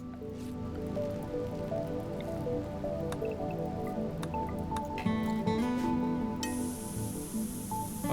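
Rain falls in the RimWorld video game as a steady patter of drips and splashes, with tonal game sounds running continuously underneath. A bright hiss swells near the end. No voices.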